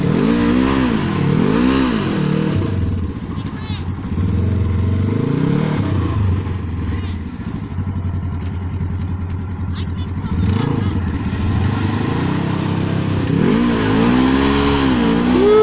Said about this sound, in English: that truck comes flying out